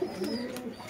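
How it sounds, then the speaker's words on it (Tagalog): A racing pigeon that has returned early to its loft gives a short, soft coo nearby, with a few faint rustles and no talking. "meron tayong maagang ibon"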